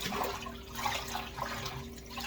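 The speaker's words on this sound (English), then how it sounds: "Get ready to let the water out" Steady rushing water drains out of a sink after washing greens, a close gurgling wash with a faint low hum underneath and no voices.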